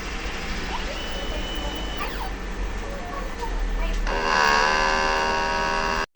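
A DTF printer runs a print head cleaning cycle, with a steady machine hum, a few soft mechanical whirs and sliding tones, then a louder pumping motor sound near the end, all close by.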